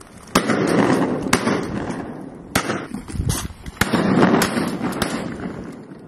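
Shotgun shots fired while duck hunting on frozen public land in winter, a handful of sharp, loud blasts spaced a second or so apart over steady outdoor noise.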